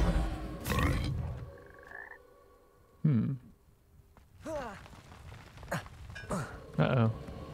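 Frogs croaking in the video game Hogwarts Legacy: several deep, throaty croaks at irregular intervals, mixed with game ambience and a short rising tone, with a person talking faintly at times.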